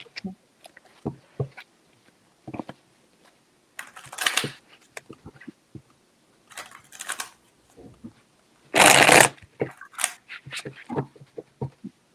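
Decks of playing cards being shuffled and switched, with short riffling bursts, soft flicks and taps close by, separated by quiet pauses and one longer loud riffle near the end.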